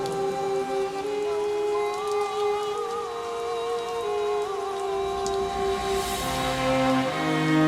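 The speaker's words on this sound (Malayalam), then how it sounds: "മഴ തുടങ്ങിയ" Steady rain falls in a continuous hiss throughout, with sustained tonal music playing over it.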